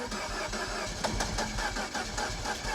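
A rebuilt Mini Cooper S engine cranks steadily and fails to start, a loud, continuous churning with rhythmic pulses, close up and with no voices.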